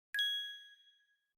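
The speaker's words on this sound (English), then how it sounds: "a notification pops up and drags you right back to your work" A single bright ding of a Mac notification alert, clean and clear, ringing briefly before decaying into silence, with no talking.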